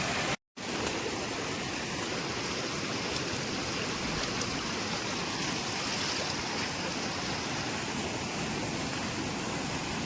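A large village river near farm fields rushes steadily, a dense, continuous roar of flowing water filling the whole stretch after a brief dropout at the start, with no voices.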